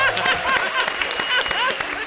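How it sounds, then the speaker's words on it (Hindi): A studio audience at a comedy show gives lively applause and scattered cheers for Arbaaz, a busy wash of clapping mixed with voices. "जोरदार तालियां अरबाज भाई के लिए।"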